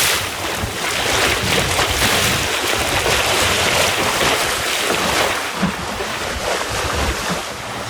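A sailing dinghy moves fast through the water in a heatwave, with a loud, steady rush of water and wind noise buffeting the microphone throughout, with no voices.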